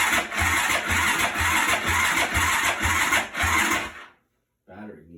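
A 2004 Yamaha YFZ450 quad with a weak battery cranks loudly and rhythmically for about four seconds without catching, then falls silent before a short faint sound follows.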